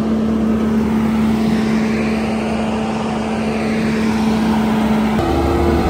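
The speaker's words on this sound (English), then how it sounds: "So he's going as deep as he can with universal rotor head at average pace." Skid-steer fitted with a universal rotor head grinds stumps deep in a cleared former forest at an average pace, a loud, steady machine drone with a constant low hum, close and uninterrupted throughout.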